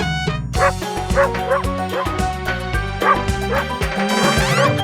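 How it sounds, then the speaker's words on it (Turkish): Repeated dog barks, bright and yappy, pop up in quick succession over a bouncy, loud musical backing from a Turkish children's farm song. "Çiftliğinde köpeği var İya iya o Burada hav hav, orada hav hav"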